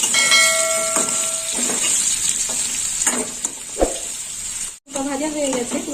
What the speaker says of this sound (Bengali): আলুটা একটু ভাজা হবে।